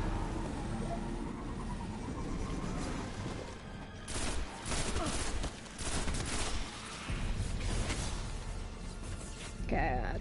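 Video game gunfire crackles in repeated bursts through the middle and end, loud and close over a steady background rumble, with a voice talking at times.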